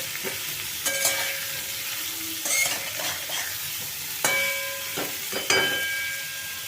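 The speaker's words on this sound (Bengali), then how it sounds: "এই সব শুদ্ধ লো ফ্লেমে আমি একটুখানি সাঁতরিয়ে নেব" Half a teaspoon each of ground cumin and ground coriander sautéing in a pan over a low flame while cooking echor (young jackfruit) kosha, a soft steady sizzle broken by several bursts of utensil stirring and scraping.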